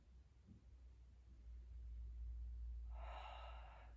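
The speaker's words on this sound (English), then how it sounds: "Take a full round of breath." Slow, audible breathing during a gentle yoga pose, a long steady exhale swelling in the final second over a low background hum, with no talk.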